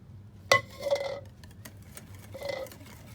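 A whisk clinks sharply against a bowl, then scrapes and stirs steadily as milk is beaten into chocolate cake batter. A quieter second burst of stirring follows in a quiet kitchen.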